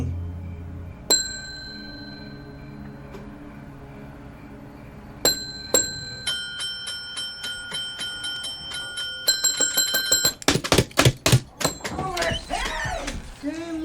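A bell in a From Dusk Till Dawn scene rings several times, with single dings early and then a rapid cluster of rings, under talk and background noise.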